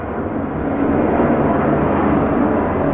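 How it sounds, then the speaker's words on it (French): A fixed-wing airplane passes overhead as a loud, steady, broadband engine roar that swells slightly and holds for several seconds, alone without talk. "fait chier l'avion"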